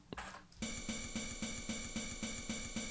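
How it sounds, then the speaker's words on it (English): A short thump gives way to a repeating low pulse, evenly spaced hits of a kick drum's ringing tail looped in Ableton under a bright, steady hiss. "I looped the tail of the kick"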